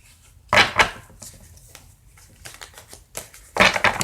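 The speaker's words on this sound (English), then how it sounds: "One more shuffle, and then I'm just going to go ahead and pick a card." A deck of tarot cards is shuffled close by in quiet surroundings. Two brisk riffle bursts are separated by softer shuffling and handling.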